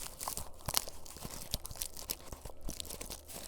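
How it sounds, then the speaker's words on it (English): Fingers run across the crunchy, rusty keys of a Gateway laptop keyboard, held close by in a quiet room, giving a dense string of dry crackling and grinding clicks with no talk. "that's just me running my fingers across the keys, and it's that crunchy"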